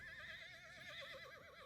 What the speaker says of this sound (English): It's a noisy ass horse